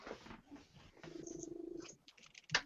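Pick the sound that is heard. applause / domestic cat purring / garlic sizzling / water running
domestic cat purring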